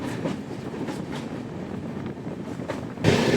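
The Kanchankanya passenger train runs along the rails near the Teesta river, a steady rumbling roll with faint clickety-clack beats, heard from inside over wind noise that grows louder near the end.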